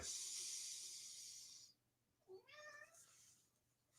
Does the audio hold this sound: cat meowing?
yes